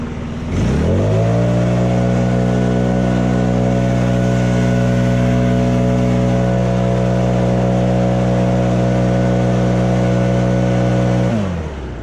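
A Stihl BR800 backpack leaf blower spins up to a loud, steady high-pitched whine and drone, holds for several seconds, then winds down at the end.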